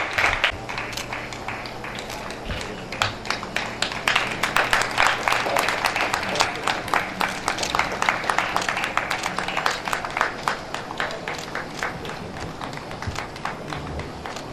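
Sustained rhythmic clapping from an audience at an annual school function as an envelope is unveiled by honoured guests, steady, fairly loud applause running throughout with a faint voice underneath at moments.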